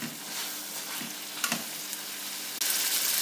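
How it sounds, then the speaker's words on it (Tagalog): Tomatoes sauté for pinakbet, crushed as they soften, with soft steady sizzling and a few light scrapes of a spoon against the pan, quiet and up close. "Nagigisa na po ang ating kamatis."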